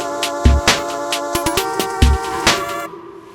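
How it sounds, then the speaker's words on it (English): Retro video game chiptune sample with an echo effect: bright, buzzy synth tones and sharp percussive blips repeat in a quick rhythm, each note trailing off in a faint echo before cutting to silence. "Let's get a little bit of echo on this bad boy."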